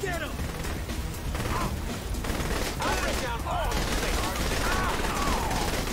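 Gunfire in Saints Row: The Third Remastered, with dense bursts of shots and clattering effects over continuous game noise, close and loud, while a voice speaks intermittently over it.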